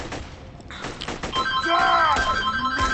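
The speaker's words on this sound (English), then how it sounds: "Could have swore I hit the off button on this damn phone." A real phone rings with a tonal ringtone over the busy gunfire and effects of Borderlands 2 played on an Xbox 360, the ringing rising in the second half amid the constant game noise.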